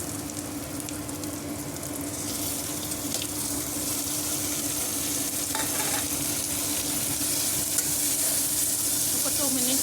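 Tomatoes fry in a pan for mutton curry, giving a steady close sizzle with stirring and scraping throughout, no voices over it.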